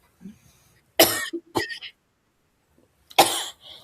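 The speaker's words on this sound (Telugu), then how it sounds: "నైట్ అయితే ఇంకా ఈ కాఫ్ అసలు వదిలిపెట్టట్లేదు." A person coughs in three sharp, loud bursts close to the microphone, the last one coming after a short quiet pause, with no talking in between.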